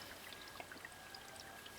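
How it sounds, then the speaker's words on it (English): Rainwater pours by gravity through a filter into a storage tank for an off-grid tiny house, a faint, steady trickling and splashing rush with no voices. "I can hear it running into the filter through gravity pressure."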